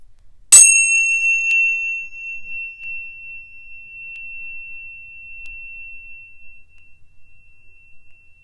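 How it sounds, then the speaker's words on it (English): A single bright bell strike rings out, then a clear tone lingers and slowly fades over several seconds in otherwise quiet surroundings. "close your eyes and listen for my bell"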